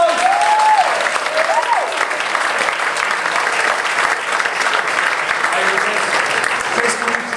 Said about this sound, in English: Chris, would you come and give Chris a round of applause?